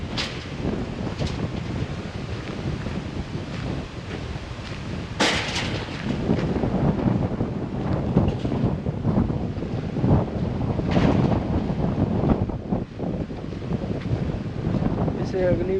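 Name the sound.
strong wind at James Bond Island, Phuket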